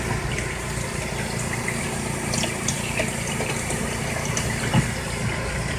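A portable compact washing machine fills with water while rinsing, giving a steady, continuous rush of water and pump hum at an even level throughout, with a few faint clicks and no talking.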